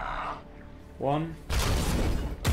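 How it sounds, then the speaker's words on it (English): Support fire erupts in the game Warhammer 40k: Chaos Gate - Daemonhunters as a dense, loud barrage of gunfire and crashing impacts filling the second half, after a short stretch of talking voices. "That support fire is crazy good."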